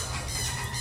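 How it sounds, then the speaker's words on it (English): A dancing headbanging bird lets out a short, sharp squawk, close and fairly quiet, with no talking over it. "This is a headbanging bird."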